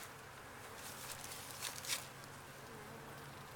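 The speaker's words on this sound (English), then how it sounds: "those bees are a little bit aggressive" Honey bees hum faintly and steadily around an open hive during an inspection, a low continuous drone with a couple of brief louder passes.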